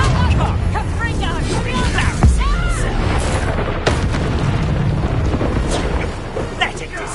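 Deep booming blasts from the Confringo spell erupt in a video game, loud and close, over a continuous rumble, with a voice calling out amid the explosions.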